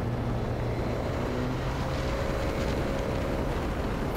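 Suzuki GSX-S950 motorcycle engine while riding, a steady broad drone mixed with wind rush, continuous and fairly loud from start to finish with no talking.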